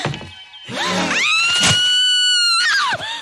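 A woman lets out a long, loud, high-pitched scream of fright, sustained for about two seconds after some shorter shrieks and a thump, close and intense in a film scene.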